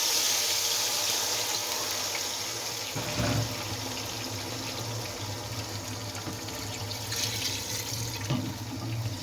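Yakhni stock poured into a pulao pot, a steady watery pour running throughout with a couple of brief louder splashes, close and fairly quiet, with no talking.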